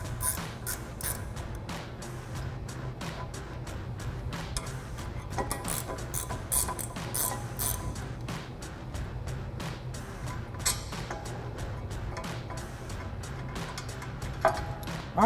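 A ratchet wrench backs out the 15 mm caliper bracket bolts on a 2011-2014 Mustang GT, with quiet rapid clicking in bursts and a faint mechanical background.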